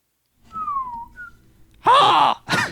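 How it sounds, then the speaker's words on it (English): A raven call plays: a gliding whistle, then a loud hoarse, grating squawk and a shorter second squawk, close and piercing against silence. "that raven call just jump scares you"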